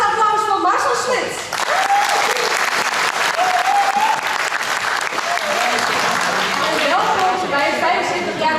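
An audience at a company's 75th anniversary event gives sustained, loud applause for Marcel Smit, a dense wash of clapping with a few whoops running throughout.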